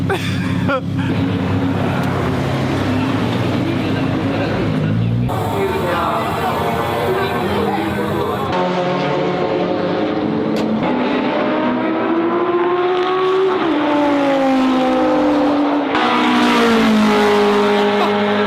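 A modified Nissan GT-R R35 and a Lamborghini run on a race track, loud engines revving and shifting through rising and falling tones as people talk over the noise.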